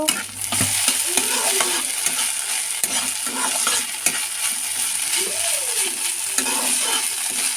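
Cashews stirred into poha frying in a pan, with a continuous sizzle under repeated scraping strokes of a spoon against the pan, close and steady.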